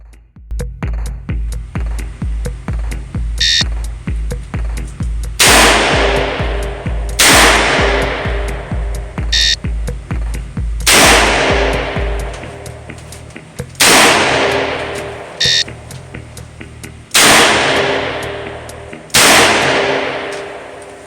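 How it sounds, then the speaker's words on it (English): Colt Trooper MKV revolver fired at a shooting range, loud sharp cracks in pairs with ringing decay, spaced a couple of seconds apart, following a faster train of evenly spaced pulses. "On command, fire 2 rounds in 2 seconds, assume the ready position."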